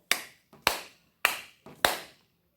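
Four single hand claps sound one after another at an even crotchet pace, each sharp, close and alone with a short decay and silence between, spaced about 0.6 seconds apart.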